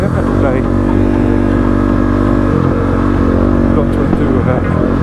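A Kove 450 Rally motorcycle engine drones loud and close, with steady throttle and shifts in pitch, while a rider talks over it on off-road trail riding.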